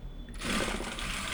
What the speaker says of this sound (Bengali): এবারে মাঝখান দিয়ে এটা সেলাই করে আমি এখানে শেষ করব